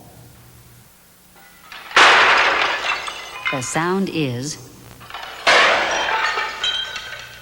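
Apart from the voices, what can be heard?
tray crashing and dishes breaking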